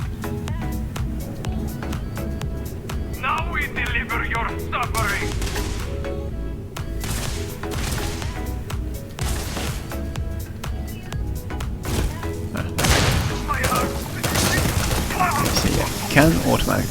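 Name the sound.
automatic rifle gunfire in the video game Starfield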